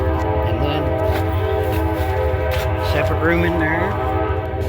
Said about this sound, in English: Like I said, you got the trains going out there.